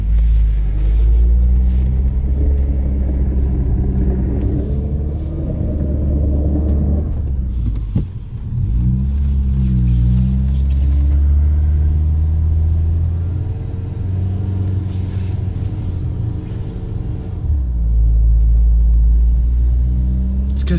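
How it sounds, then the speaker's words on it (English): A car drives through deep snow drifts in winter, its engine rumbling loud and close with low, steady revving that rises and falls as it pushes through, under a continuous cabin drone. "Let's go through the snow dunes."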